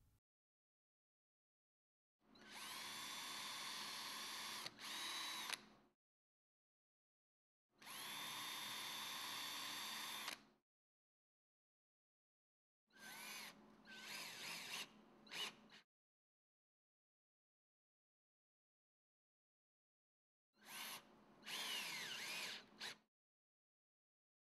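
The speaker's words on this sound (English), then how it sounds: "drill 2 pilot holes and screw 2 number 12 3/4 inch screws through the pilot holes" A power drill whirs in four separate bursts of a few seconds each, revving up and boring pilot holes steadily into wood, with silence between them.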